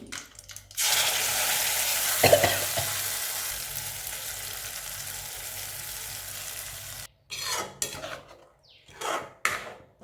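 Garlic thokku sizzles and fries in oil in a pan, a steady close hiss lasting several seconds, then breaking into a few stirring scrapes and bursts of crackle at the end.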